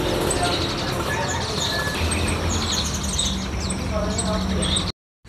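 Caged kutilang sutra and merbah birds chirp together in a bird shop at Palmerah, Jakarta, a dense steady chatter of overlapping high tweets and calls filling the whole stretch before cutting off abruptly near the end.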